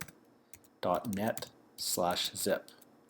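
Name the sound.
typing a URL on a computer keyboard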